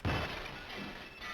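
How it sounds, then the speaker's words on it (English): Glass shatters in the Danganronpa Goodbye Despair video game, a loud sudden crash followed by a sustained bright spray of breaking shards lasting over a second, heard alone without talk. "It sounded like glass breaking?"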